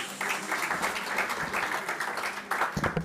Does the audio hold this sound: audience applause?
yes